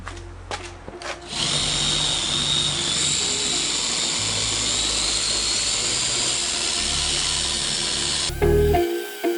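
A pad polisher buffs the front bumper of a Rio Yellow Honda AP2 S2000, a loud, steady motor whine that holds for about seven seconds after a few brief starts and ends with a louder burst.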